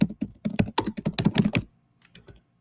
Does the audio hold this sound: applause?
no